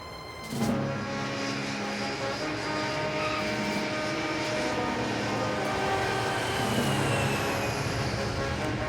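A small airplane flying at altitude, its droning engine and propeller hum loud and steady throughout after a sudden onset, with no talking over it.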